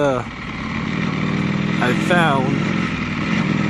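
A 2018 Ducati Panigale V4 Speciale motorcycle, recently crashed, idles in neutral with a steady close-up engine burble, while someone talks over it.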